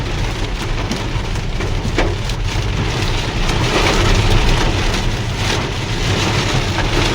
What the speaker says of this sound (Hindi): ओले पड़ रहे हैं, देखो ओले